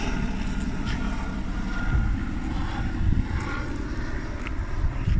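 Helicopters fly over a flooded river area in Townsville, producing a continuous low rotor and engine rumble that is steady and moderately loud across the whole stretch, with no talking.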